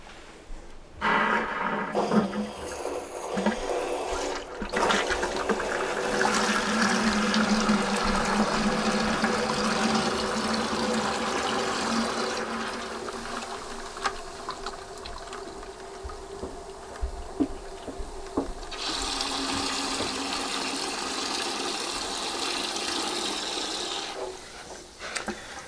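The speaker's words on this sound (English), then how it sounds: "Water's going to come gushing out, water and sediment." Water and sediment gush from an opened water heater drain valve in a steady, rushing hiss that runs for the whole stretch, with a few brief dips and surges.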